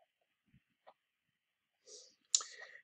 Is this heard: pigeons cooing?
no